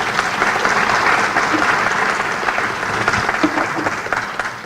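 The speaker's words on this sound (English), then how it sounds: "So a big round of applause for John." Audience applause at a Dallas suicide prevention and awareness day event, a dense, loud, sustained round of clapping from a crowd filling the whole stretch.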